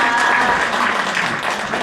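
A crowd claps loudly and steadily to welcome construction companies at a redevelopment briefing for a residential district, a dense sustained burst of applause close by throughout.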